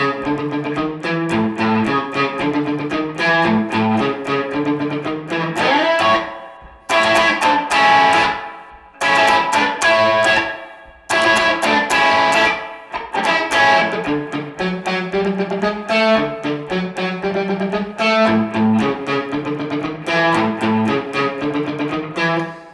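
A distorted electric guitar plays a bluesy riff, repeating phrases of plucked single notes with a few short pauses, loud and close with no voices.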